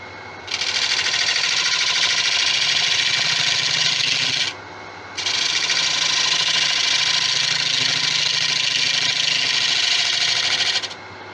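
A carbide turning tool shears resin on a spinning tigerwood basin-style bowl, a loud, steady high-pitched cutting hiss in two long passes with a short break between them.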